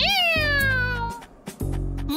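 A cartoon cat in the Boonie Bears series lets out a loud, close meow with a long falling pitch, then a few shorter harsh vocal bursts after a brief pause.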